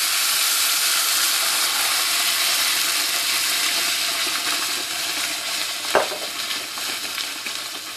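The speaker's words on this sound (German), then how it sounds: "Den Braten mit dem Wasser ablöschen." A pork roast sizzles and hisses steadily in a hot pan as water is poured in, making a dense steamy crackle with a brief splash near the end.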